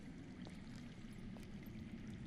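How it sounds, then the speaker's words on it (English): Water flows underground in a Game of Thrones video game, a soft, faint, continuous pouring and trickling stream with a low rumble and occasional splashy accents. "I hear water. From underground."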